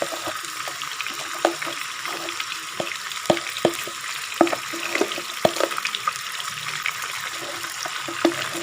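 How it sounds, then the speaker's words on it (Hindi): Chicken pieces frying in a pan for white karahi, a steady close sizzle with scattered crackles and pops running throughout, no voices. "अब हम इसे गोश्त के रंग बदलने तक इसे फ्राई करेंगे।"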